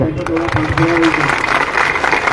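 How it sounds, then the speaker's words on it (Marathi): A crowd gathered at an outdoor protest rally claps in a dense, steady wash of applause that runs the whole stretch, with a voice carrying over it. "इथं जमलेले जे बांधव आहेत त्यांच्यासाठी तुम्हीच एकदा चांगल्या टाळ्या"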